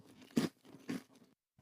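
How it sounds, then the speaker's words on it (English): Crisp crunching bites of Cinnamon Toast Crunch cereal, two distinct close crunches about half a second apart followed by faint chewing, quiet and with no talking. "That's the sound of Cinnamon Toast Crunch telling us it's crunch time"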